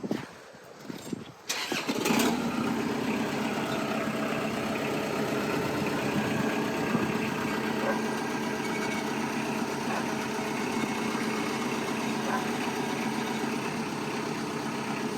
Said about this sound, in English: Taking the old G1 two-stroke for a rip.